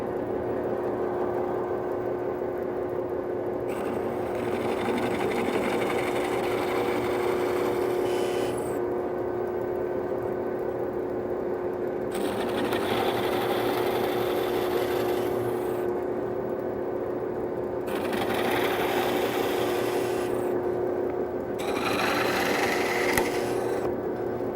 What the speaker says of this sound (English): You may get plugs that actually snap off while you're drilling them